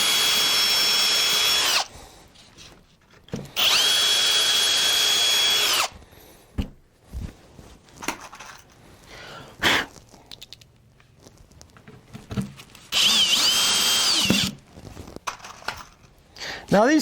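Power drill boring countersink holes into a freehand-carved wooden condo sign, three loud sustained bursts separated by pauses filled with clattering handling noise and brief talk.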